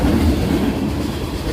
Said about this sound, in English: I am so sorry about the train.